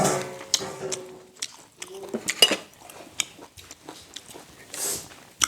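Someone eats rice with fried bamboo worms and stewed bones by hand, producing close, irregular wet chewing and crunching with clinks of dishes. No one speaks.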